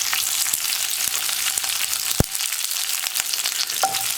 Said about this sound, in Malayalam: പാനിലേക്ക് ഞാൻ കുറച്ച് വെളിച്ചെണ്ണ ഒഴിച്ചിട്ട് ഒരു ടീസ്പൂൺ കടുക് ചേർക്കുന്നുണ്ട്